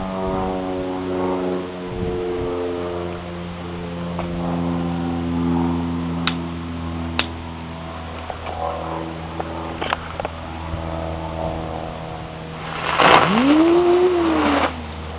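A cheap spinning bullet firework lit on the ground gives a sudden rising whistle and hiss near the end, after a long stretch of steady background hum and scattered small ticks.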